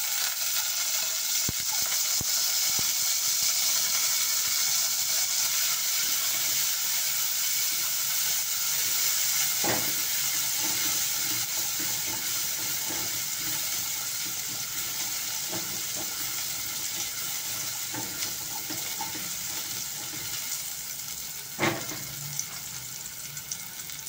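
Garlic frying in a hot pan as the start of chicken adobo, a continuous loud hiss and sizzle with scattered crackles and a few sharper pops, no talking.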